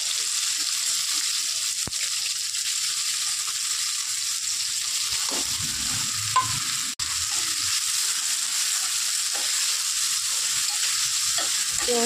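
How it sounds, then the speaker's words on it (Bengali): Chopped onions sizzle in hot oil in a wok, a bright, continuous hiss that holds steady for several seconds, broken by a brief clatter of stirring partway through. "গরম করে নেওয়া তেলের মধ্যে আমি পেঁয়াজ কুচি দিয়ে দেবো।"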